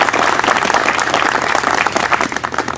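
Dense, steady applause from a crowd at an art barn groundbreaking ceremony on Spring Island, loud and continuous throughout with many overlapping claps and no pause.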